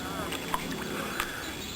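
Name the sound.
child paddling a canoe on water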